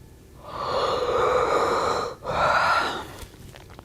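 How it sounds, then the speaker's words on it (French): A person gives a long, breathy yawn, opening with a sharp intake, stretching into a loud, airy exhale with a short catch midway, then fading out, close and alone. "Un bâillement plus que bienvenu."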